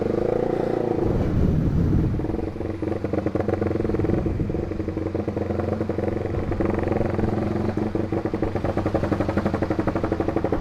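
A Honda CBR150R with a remapped ECU idles around 3,000 to 3,500 RPM, its engine note pulsing in a rhythmic, hunting 'helicopter' flutter, loud and close after a short rev at the start.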